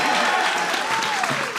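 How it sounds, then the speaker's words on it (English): Audience applause at a festival talk, a steady wash of clapping with a faint tone running beneath it. "Let's get a round of applause for that."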